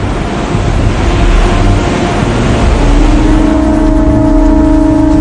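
Ocean surf breaks steadily on a beach, a loud continuous roar of churning waves and wind with no pauses, some faint tonal hum underneath.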